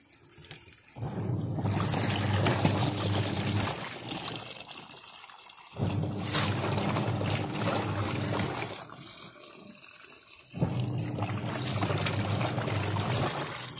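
Water gushes into a washing machine drum in three separate bursts, each a loud steady rushing flow of several seconds with brief quiet gaps between them.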